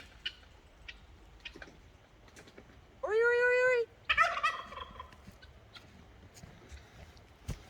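Turkeys on a farm gobble in a loud, rattling burst near the middle while being chased, followed by a second scattered round of calls over quiet outdoor background.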